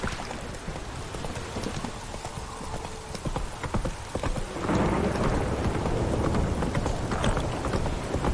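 A horse gallops through rain in The Witcher 3, with rapid hoof clip-clops over steady rainfall and a rumble of thunder, the hoofbeats growing louder and denser midway.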